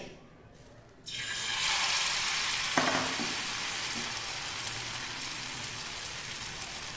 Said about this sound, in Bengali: এবারে আমি একটা একটা পনির এই ব্যাটারের মধ্যে এইভাবে ডুবিয়ে আমি তেলের মধ্যে ছেড়ে দেব।